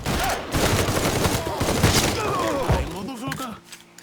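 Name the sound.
gunfire in the video game Mafia 3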